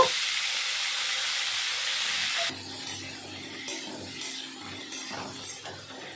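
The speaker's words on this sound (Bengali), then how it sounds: "ফুলকপি ভেজে নেব" Cauliflower frying in hot oil in a kadai, a bright hissing sizzle that drops abruptly partway through to a quieter crackle with light clinks, close by and without talk.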